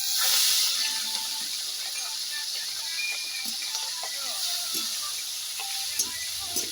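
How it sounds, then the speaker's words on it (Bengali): Prawns fry in hot oil left over from frying potatoes, giving a steady close hiss and sizzle with scattered small crackles and pops throughout. "ওই তেলে আমি চিংড়ি মাছগুলো ভেজে নিচ্ছি।"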